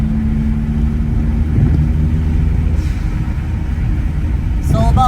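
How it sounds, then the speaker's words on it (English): A Toyota Celica GT-Four with a turbocharged engine cruising in 5th gear at about 40 mph, given light throttle as boost builds, holds a steady, close, loud low drone that swells only slightly. "We're just going to give it just a little gas and see how much boost she builds in 5th gear."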